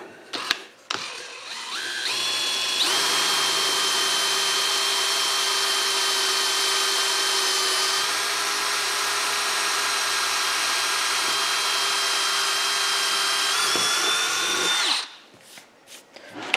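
A power drill runs steadily with a 1/8 inch bit, boring a pilot hole while mounting a workbench vice; a short startup burst, then about twelve seconds of continuous high-pitched whine, then it stops, close and loud.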